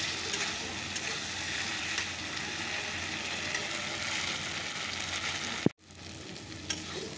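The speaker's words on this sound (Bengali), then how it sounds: "মশলাটা আস্তে আস্তে কষিয়ে নিই।" Spice masala fries steadily in a pan on the gas stove for a Bengali fish curry. A continuous close sizzle is broken near the end by a sharp clank and a brief drop in the frying sound.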